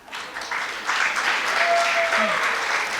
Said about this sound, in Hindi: Please welcome my Leos from class nursery with a huge round of applause